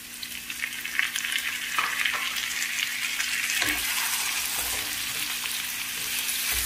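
Mixed vegetables with mushrooms and beans fry in a pan with a dense, steady hiss, broken by a few spatula scrapes and knocks, close up and even in level, with no voices.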